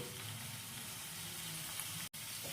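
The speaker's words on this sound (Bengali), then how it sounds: "মশলা কষাতে কষাতেই আমি এর মধ্যে দিয়ে দিচ্ছি 1/2 চা চামচ কাশ্মীরি লঙ্কার গুঁড়ো" Spice paste (masala) fries in a pan for a sweet, sour and spicy paneer dish as Kashmiri chilli powder goes in. It gives a soft, steady sizzle that cuts out for a split second near the end.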